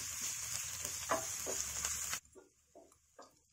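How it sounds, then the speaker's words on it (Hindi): Onion with ginger garlic paste frying in a pan for masala corn curry, a bright steady sizzle that suddenly drops to quieter crackles and soft stirring taps. "प्याज अदरक लहसुन भुन गया है"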